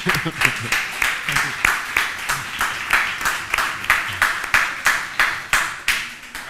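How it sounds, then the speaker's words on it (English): An audience claps at a design talk, the claps falling into a steady, rhythmic beat that stays loud and close throughout, with no speech over it. "Let's have another round of applause."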